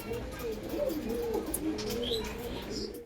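Two pairs of teddy pigeons coo in steady, warbling phrases close at hand, with occasional higher chirps over a low background murmur.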